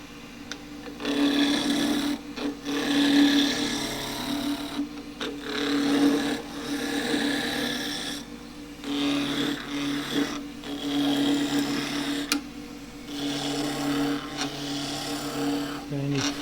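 A 3/4 inch skew chisel cuts wood spinning on a lathe while spillikins are turned, giving a steady raspy scraping hum that swells and drops in repeated passes, close and fairly loud, with a low motor drone underneath.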